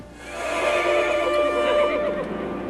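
Several horses neigh and whinny in a film effects shot of a ring of horses in Mexico, a loud, sustained chorus of overlapping calls that holds steady throughout with a faint clatter of hooves.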